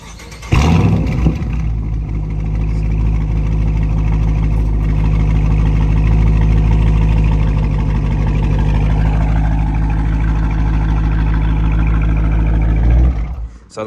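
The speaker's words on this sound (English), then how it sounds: "So like I said, the exhaust sounds great" A Dodge Charger RT with the 5.7 Hemi fires up and settles into a deep, steady exhaust idle that runs loud and close for about twelve seconds before cutting off.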